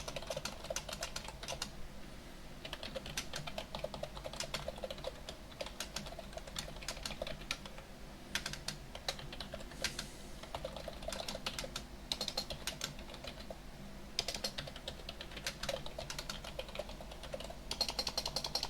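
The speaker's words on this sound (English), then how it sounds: "Guess I can't type halfway decently today for some reason." Steady, fairly close keyboard typing runs throughout, with a continuous patter of key clicks and occasional louder strokes, no voice over it.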